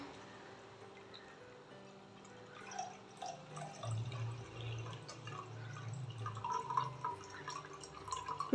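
Water is poured in for gooseberry mint juice, heard as faint drips and then a quiet, steady trickle and splash of liquid building toward the end.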